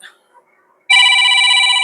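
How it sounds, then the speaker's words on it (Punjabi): A loud electronic phone ringtone starts suddenly after a brief moment of near silence and rings steadily, close by, with a bright multi-tone warble. "ਆ ਗਿਆ ਫੋਨ"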